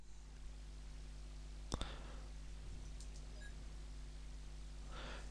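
Typewriter at a save point in the PlayStation survival-horror game Resident Evil: a couple of crisp mechanical clicks and taps over a low steady hum, quiet and sparse, with a soft breathy sound near the end.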